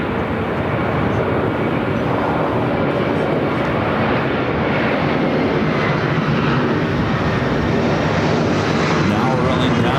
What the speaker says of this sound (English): Emirates already cleared for takeoff.